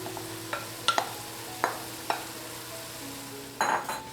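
Chicken, diced shrimp and shredded carrots frying in a pan, with faint sizzling under a handful of distinct stirring clatters and scrapes, busier toward the end.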